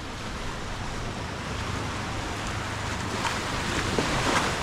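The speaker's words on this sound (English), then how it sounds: "let's have a look at our local beach" Waves wash steadily onto the local beach at Dhiffushi in the Maldives, a continuous broadband surf roar with light wind buffeting the microphone.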